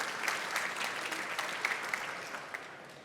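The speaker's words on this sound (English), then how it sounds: "please raise an applause to Egle Markivicius" Steady applause from a panel audience at the Latitude59 2025 conference, a moderate, continuous patter of many hands clapping at a middle distance, with a few sharper individual claps standing out.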